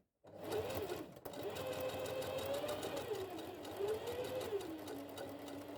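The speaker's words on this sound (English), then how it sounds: "finish this in the sewing machine" A sewing machine runs steadily for several seconds, its rapid needle chatter and motor hum continuous and close, with no voices.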